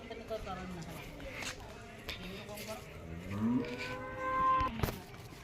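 A black cow, recently calved, moos several times with low, drawn-out calls at moderate distance, while people talk nearby.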